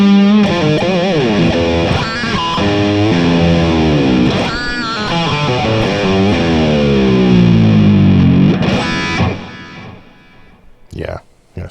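An EVH Wolfgang Special electric guitar with an ebony fretboard is played on the neck pickup through a heavily distorted amp, with loud, sustained chords and bends, brief pauses and a final burst of choppy strums.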